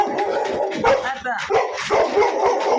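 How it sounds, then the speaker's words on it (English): Dogs bark in short, close bursts during a home consultation, with people talking over and between the barks. "They're beautiful dogs."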